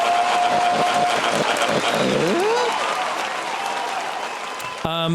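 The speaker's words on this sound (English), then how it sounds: "Round of applause." Loud, dense applause from a studio or live audience fills the clip, with whoops and a voice calling out over it, fading slightly before a brief spoken sound at the end.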